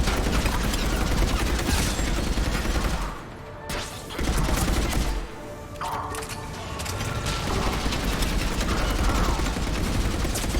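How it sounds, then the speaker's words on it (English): Light machine gun in Mass Effect 3 firing in long, dense sustained bursts, loud and close, with two short pauses between volleys and faint talk underneath. "Time to just get the LMG out."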